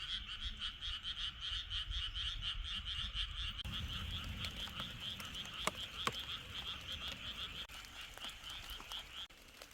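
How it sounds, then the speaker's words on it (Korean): A loud, continuous chorus of frogs croaks in rapid, pulsing rhythm outside a rural house at night as light rain begins to fall, with no talking. "아직도 개구리 소리가 요란하네요."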